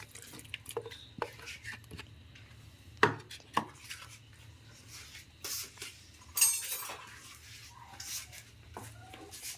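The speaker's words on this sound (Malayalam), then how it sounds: "പച്ചമുളക് ചെറുതായിട്ട് അരിഞ്ഞ് ഉണ്ടാക്കുക." Green chillies are chopped finely with a knife on a board for a dried fish curry, making irregular sharp chops and taps with brief pauses between bursts, with no talking.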